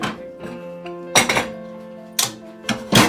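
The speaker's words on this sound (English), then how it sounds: "Now I'm putting back into the rice into the saucepan" Boiled rice tipped back into a saucepan in a kitchen, giving a few separate metallic clinks and thunks of spoon or pot against the pan, spaced out with quiet gaps between.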